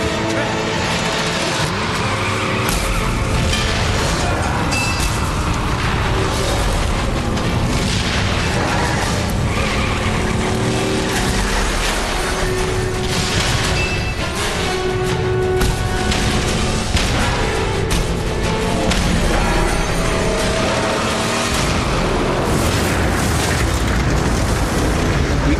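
Vehicle engine roar and skidding from the Mad Max video game, loud and continuous throughout with booming impacts, a dense wall of driving noise.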